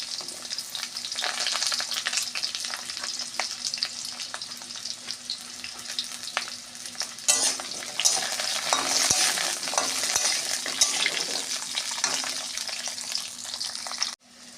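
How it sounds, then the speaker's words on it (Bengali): Potatoes with cumin frying in a pan for a potato and taro curry, a constant close sizzle broken by repeated scraping stirs of a spatula, louder in the second half, then cut off abruptly. "আলুটা একটু ভাজা ভাজা করে নেব।"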